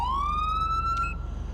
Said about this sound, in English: It's always going to turn on that siren tone.